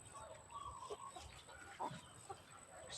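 Chickens cluck in short, scattered bursts against a steady outdoor background hum, fairly close but not loud.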